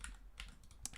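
Quiet keystrokes tap on a computer keyboard in a few quick, irregular clicks against a faint background hum.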